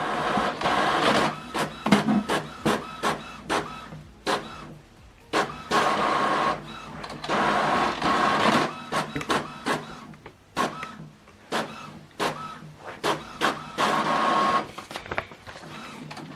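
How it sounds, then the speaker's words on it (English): An Epson printer whirring and clunking in repeated short bursts as it feeds and prints a page, heard up close with brief pauses between passes. "Printing complete."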